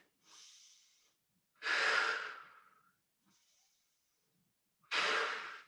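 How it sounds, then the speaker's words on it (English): Four deep breaths during a rowing core exercise, each a long airy inhale or exhale lasting about a second, two louder and fuller, two softer, with quiet pauses between and no talk. "Big deep breath, last one"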